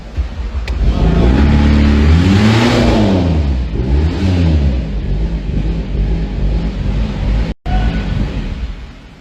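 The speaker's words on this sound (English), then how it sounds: "This is the Golf R. Now we try to start." A Volkswagen Golf R Mk7.5 engine cranks and starts, then revs hard in a couple of rising and falling sweeps before settling to a rumbling idle. The sound is loud and close, and there is a brief cut near the end.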